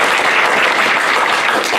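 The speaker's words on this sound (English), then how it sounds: "I heard a lot of claps for rubber chicken roommates" Audience at a live improv comedy show claps steadily to vote for a suggestion, a dense wash of applause that holds at the same level throughout.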